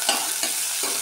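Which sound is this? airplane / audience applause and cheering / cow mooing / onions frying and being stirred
onions frying and being stirred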